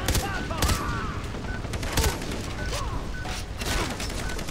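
Rapid bursts of automatic gunfire in the Far Cry 3 campaign, sharp repeated shots in clusters with brief gaps, loud and close, with a few metallic mechanism clicks between volleys.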